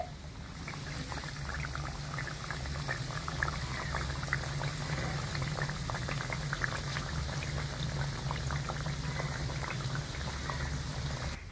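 Crisp wheat-flour biscuits fry slowly in oil over low heat, a dense continuous bubbling sizzle with fine crackles, steady and close for the whole stretch, no one speaking.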